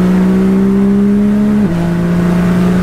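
A modified BMW M3 Touring said to make 2,000 horsepower drones loudly at a steady pitch, then drops abruptly as it shifts and settles into a lower, steady engine tone.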